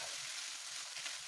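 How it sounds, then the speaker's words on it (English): Vegetable fried rice being stir-fried in a pan, a steady close sizzle of oil and rice with soft stirring scrapes running continuously and alone. "Stir fry continuously until it's well cooperated."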